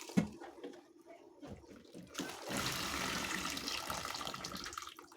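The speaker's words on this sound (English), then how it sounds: "Then I rinse it with the tap water." Tap water runs steadily into a sink to rinse strained boiled vegetables for a samosa filling, starting after a few soft clinks and handling sounds and then flowing continuously and close.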